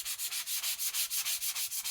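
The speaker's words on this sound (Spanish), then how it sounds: "si queréis un efecto más vintage y más desgastado, pues le pasáis un taco de lija" Back-and-forth strokes of a sanding block scuffing a painted wooden sign for a worn vintage look, steady and close, roughly seven even passes per second with no talking.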